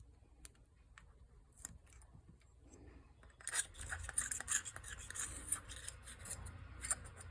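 Faint, irregular scraping and rasping as an old gasket is dug out of a paint-encrusted Fuji Spray T75G spray gun, growing busier and louder in the second half.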